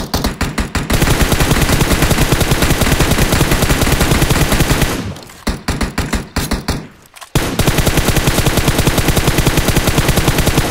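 Rapid automatic rifle fire in PUBG Mobile, aimed at a distant target with an unmodded gun, sounds as long loud bursts of shots with two short pauses between them.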